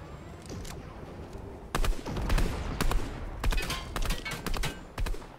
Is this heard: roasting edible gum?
no